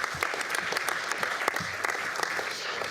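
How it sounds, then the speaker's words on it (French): A conference audience at a public procurement forum applauds a speaker, a sustained, fairly close wash of clapping with some individual claps standing out sharply. "je pense qu'on peut l'applaudir encore."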